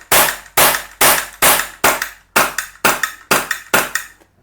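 A Camstar Star RX CO2 pistol fires in rapid succession, nine sharp, loud, close cracks at roughly half-second intervals, each snapping on and then decaying quickly, with no talking.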